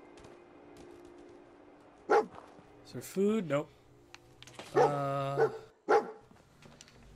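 A dog in the video game Fallout 4 gives a few short barks and yips spaced across several seconds, close and fairly loud, with someone talking briefly between them.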